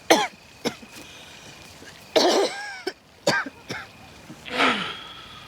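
Several harsh coughs and throat-clearing sounds come in irregular bursts, with short quiet gaps between them.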